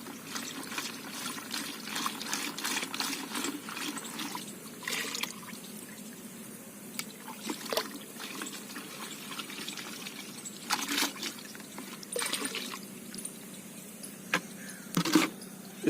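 Water pours into a 200-litre drum holding 2 kg of dissolved jaggery, a steady splashing trickle with scattered sharp knocks and clinks throughout, fairly close, with no voices.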